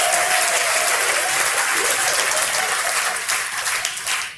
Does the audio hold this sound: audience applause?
yes